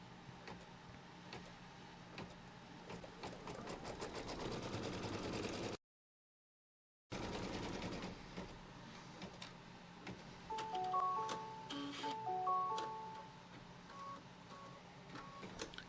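An embroidery machine tacks a piece of secondary fabric onto a quilt block with white thread, giving a steady close mechanical whir with rapid ticking. It stops briefly, then resumes with a few short beeping tones.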